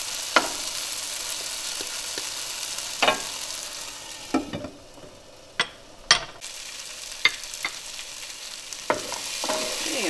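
Potatoes fry with masala for aloo gobi, a continuous close sizzle punctuated by sharp clacks and scrapes of a spoon stirring against the pan at irregular intervals, with no speech.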